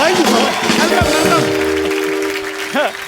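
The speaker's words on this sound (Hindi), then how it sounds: "तालियां। ताली बजाओ।" Studio audience applause on The Kapil Sharma Show, a loud wash of clapping with music and sustained tones running underneath, then thinning out near the end.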